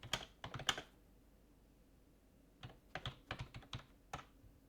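Typing on a computer keyboard while playing the game DDO, a few quick clusters of sharp, close key clicks separated by a quiet pause, fairly soft overall.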